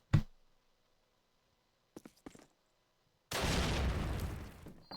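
A grenade blast in Call of Duty leads into a sharp opening bang, a short gap, then a few quick pops and a long roaring rumble that fades out near the end.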